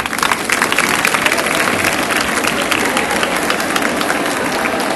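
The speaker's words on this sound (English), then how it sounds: "Shall we clap for him?" Girls' secondary school students clapping for a visiting boy, a steady, dense roar of applause from a large group sustained evenly throughout.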